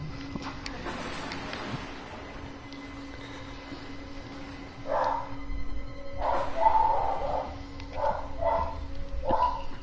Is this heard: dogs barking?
yes